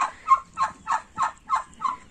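A chicken beside a duck clucks in a steady run of about seven evenly spaced, close, fairly loud calls, with no other sound between them.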